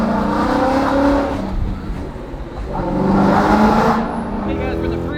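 A 2020 Shelby GT500 with 800 horsepower accelerates onto a highway, its loud engine roar swelling, dipping briefly, then surging again as a voice talks inside the cabin.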